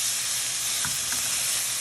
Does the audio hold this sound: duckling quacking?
no